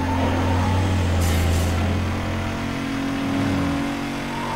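A Mazda race car engine in Need for Speed Most Wanted hums and revs steadily at mid pitch, loud and continuous, with a short shift in tone partway through.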